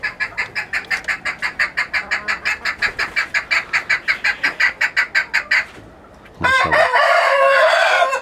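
Rooster crowing on a farm in a long, loud pulsing call of rapid repeated notes, a short pause, then a second sustained crow close by, with a brief voice.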